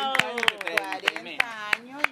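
A small studio audience on a Chilean television talk show claps in scattered, uneven bursts while several voices talk and cheer over it.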